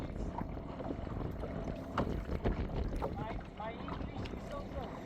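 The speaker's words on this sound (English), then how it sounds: "I'm just doing a drift pattern analysis to see how fast my dinghy drifts in the wind" A small dinghy drifts on open water in a video game, with steady wind rushing across the microphone and water lapping against the hull throughout.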